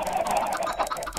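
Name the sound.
chickens clucking in the video game Minecraft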